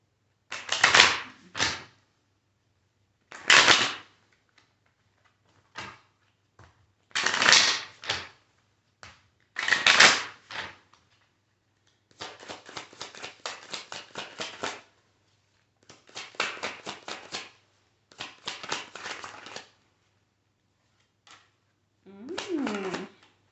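A tarot-style twin flame card deck being shuffled in a run of short, crisp riffling bursts separated by pauses, close and fairly quiet.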